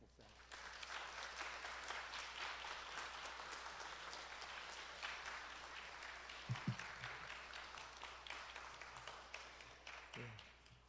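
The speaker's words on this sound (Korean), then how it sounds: "우리 모두 함께 큰 박수로 환영 인사드리겠습니다" A church congregation gives a long, steady round of applause to welcome a newly installed pastor, dense clapping filling the room from start to finish, with a couple of brief voices rising through it.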